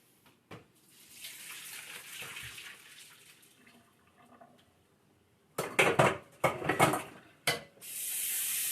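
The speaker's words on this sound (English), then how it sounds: "Potatoes are done. I'm going to just strain it." Boiled potatoes are strained in a kitchen sink: faint trickles and a clatter first, then irregular sloshing bursts of draining water and a strong steady rush of running water at the end.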